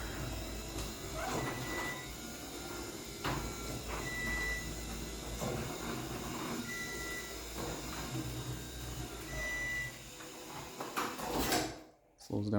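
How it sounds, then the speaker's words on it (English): A loud garage door driven by its opener rumbles and rattles steadily for about eleven seconds, with faint speech underneath, before the motion cuts off near the end. "The door is so loud."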